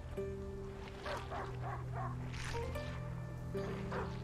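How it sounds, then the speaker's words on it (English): Dog barking in A Plague Tale: Innocence, a run of several moderate barks at middle distance over steady game ambience and low drones, with no speech. "Just hear him barking in the background."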